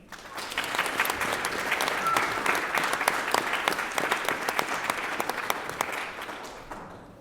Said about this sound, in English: let's have another round of applause to Leigh-Anne and her